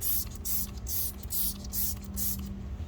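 Turtle Wax Hybrid Solutions Pro Rapid Decon iron remover sprayed onto a car wheel and rotor, a rapid series of short, close spray bursts over quiet background.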